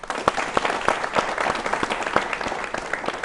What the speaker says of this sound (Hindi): मैं भी चाहूँगा दोस्तों डॉक्टर भूपेंद्र जी के लिए ज़ोरदार तालियां